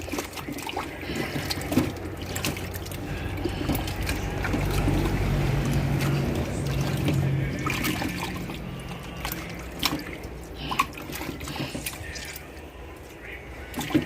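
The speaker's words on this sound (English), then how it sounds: "I wash it properly with the lime" Raw turkey neck washed with water and lime, a continuous close splashing and trickling of water with scattered clunks and handling noises, with faint background voices at times.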